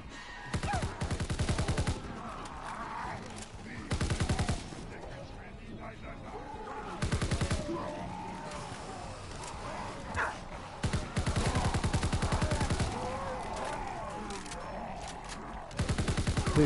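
Gunfire in Call of Duty: WWII, including shotgun blasts, comes in repeated short bursts between quieter stretches, with talk over parts of the fighting.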